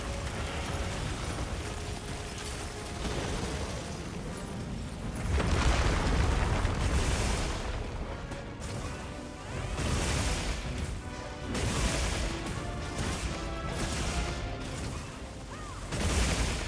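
Ice explosions from Arch Tempered Jin Dahaad in Monster Hunter: a series of heavy booming bursts and crashing blasts that swell and fade in waves at close range.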